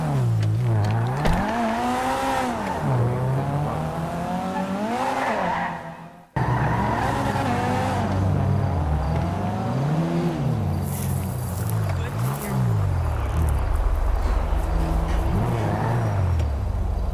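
A stolen car in the video game GTA drives hard with a rising and falling engine drone and long tire skids. The sound is loud and continuous, with a brief cut partway through and a voice talking over it.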